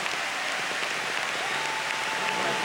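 Steady, dense applause from an arena crowd at an indoor motorbike trial in Valencia, clapping evenly throughout with no voices standing out.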